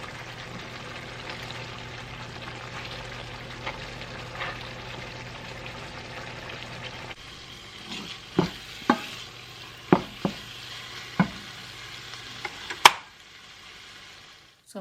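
Liver fries with ketchup in a pan for a Jamaican breakfast: a quiet, steady sizzle, then a series of sharp utensil knocks and scrapes against the pan as it is stirred.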